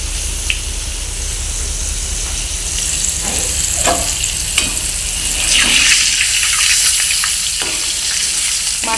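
Rava-coated fish from Veer dam sizzles steadily in a little oil in a village kitchen, a loud continuous crackle with a few scraping stirs and shifts rising over it.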